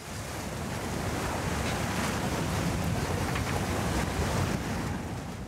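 Choppy Baltic Sea waves slosh and crash around a sailing boat while strong wind buffets the microphone, producing a dense, continuous roar with no voices.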